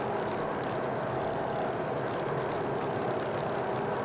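A Grumman F3F biplane fighter's radial engine drones steadily through a flyby, a continuous loud, broad roar with a propeller buzz that holds even for about four seconds, with no voices.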